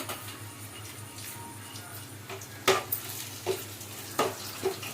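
Garlic sizzles in oil for an okra curry in a home kitchen, a steady, fairly quiet frying hiss broken by several sharp scrapes and clinks of a utensil stirring against the pan.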